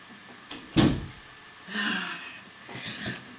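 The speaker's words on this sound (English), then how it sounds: "I should have shut the door the first time" A door is pushed shut at home with a sharp single thud, followed by softer rustling and shuffling movement nearby.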